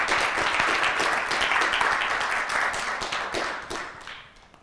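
Conference audience applauding after a Q and A session on art: a dense, steady wash of many hands clapping that gradually thins and fades out toward the end.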